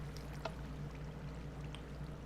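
Water flowing through a slime farm in the Tinker World game, a steady low pouring stream with faint trickles and occasional splashy accents, soft and continuous with no voices.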